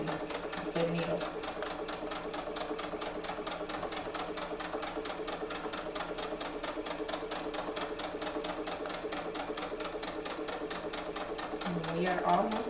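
A sewing machine runs steadily while back-stitching a seam on recycled stretch leggings, with a continuous rapid needle rhythm at close range and a brief voice near the end.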